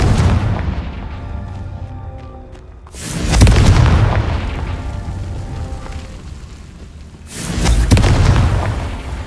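Two heavy booming blasts from the Confringo explosion spell in Hogwarts Legacy, each a loud, sudden burst that rolls out into a long rumbling decay, spaced about four seconds apart.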